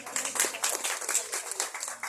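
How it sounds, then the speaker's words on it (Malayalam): A crowd applauds a young boy at his holy communion, steady dense clapping from many hands filling the short moment without speech. "ഉണ്ണിക്ക് നമുക്ക് നല്ലൊരു കയ്യടി കൊടുക്കാം"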